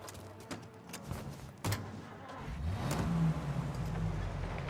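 A car engine in Mafia: Definitive Edition idles, then revs and pulls away with a rising drone after a door thunk and a few clicks, close and steady with no voices.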